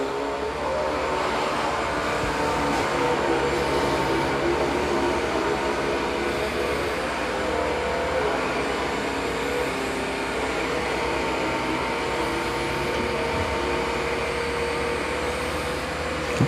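A Dyson 360 Vis Nav robot vacuum runs on a rug with its brush roll agitating, giving a continuous loud, even whirring drone throughout with no pauses.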